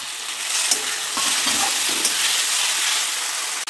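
Garlic and ginger paste with tomato sizzles steadily in hot oil for a mutton curry, a close, continuous frying hiss with occasional stirring scrapes and no talking.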